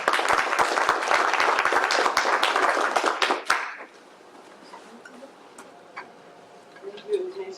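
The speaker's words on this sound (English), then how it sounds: "So a big round of applause for Mary Beth." Audience applause for an academic speaker at a conference: dense, loud clapping from many hands for about three and a half seconds, then breaking off abruptly into a quiet room with faint shuffling.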